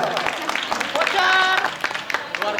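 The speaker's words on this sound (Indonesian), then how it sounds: "Tepuk tangan dong." Audience clapping at a school reunion event, scattered and uneven claps heard under a speaker talking over the crowd.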